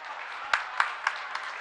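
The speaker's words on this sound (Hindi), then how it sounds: "जोरदार तालियां" Applause at a Jain Panch Kalyanak consecration festival at Shikhar Ji, a dense wash of clapping with a few louder individual claps standing out over the short stretch.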